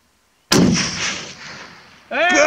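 A long-range rifle fires one sharp, loud shot at gophers on the Southern Alberta prairie, the blast rolling away outdoors before voices start speaking right after.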